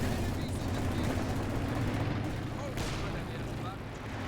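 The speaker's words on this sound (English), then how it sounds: "Very nice Stuka barrage." Stuka barrage explosions during a competitive video game match, a dense rumbling wall of blasts and gunfire that continues throughout, under a commentator's voice.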